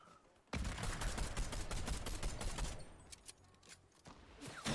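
Sustained rapid gunfire hammers enemy bunkers in a video game, a loud dense burst starting abruptly after a quiet moment, then thinning into scattered shots near the end.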